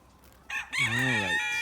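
A rooster in a backyard flock, with breeds such as White-faced Black Spanish and Olive Egger, lets out a single close, loud crow after a brief rising squawk, against quiet outdoor background.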